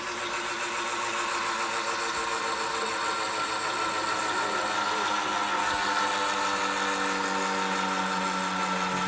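A 2-inch spinning magnet N-machine generator running at high voltage whirs with a steady mechanical hum and fine rattling buzz, close and continuous as it begins to wind down, without any speech.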